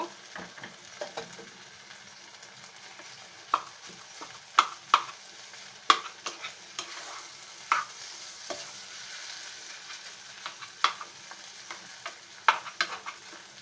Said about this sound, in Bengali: ডিমটা দিয়ে আমরা খুব ভালো করে নেড়ে নেব আর মিশিয়ে নেব।